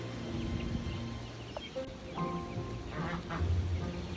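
A duck quacks a few times beside a chicken coop pen, close and clear over a steady outdoor background hum.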